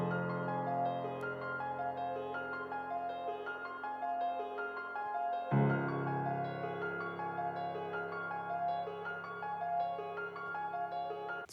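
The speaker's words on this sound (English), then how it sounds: "So with the other piano sound, we got something that sounds like this." An arpeggiated piano melody from an FL Studio beat plays notes in a smooth rising and falling pattern over a sustained low tone. The bass deepens halfway through, and the audio is clean and fairly quiet with no voices.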